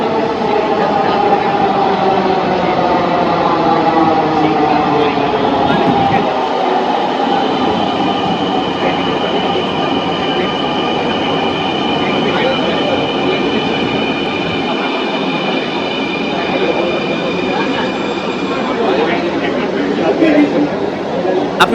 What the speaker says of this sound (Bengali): এই যে আমার মেট্রো আসছে।